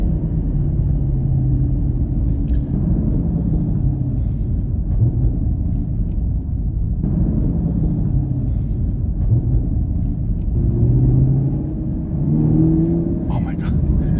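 A 2022 Camaro SS 1LE engine drones steadily and loudly through a lap of Daytona raceway, heard from inside the cabin, with shifts in pitch as it accelerates and eases off while the driver talks over it.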